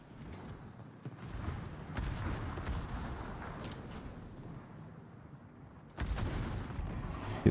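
Heavy warship guns boom in World of Warships, a rumbling barrage of repeated blasts with a sharp, louder salvo near the end.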